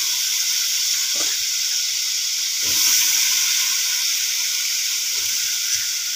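Vegetables added to dried fish frying in a pan sizzle with a steady bright hiss, close and continuous, broken by a few soft clinks and knocks of stirring.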